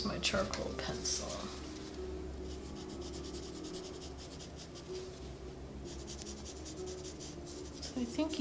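A charcoal pencil drawing on paper, soft continuous scratchy strokes with short rhythmic bursts of hatching, close and quiet, with a voice talking over it at the start.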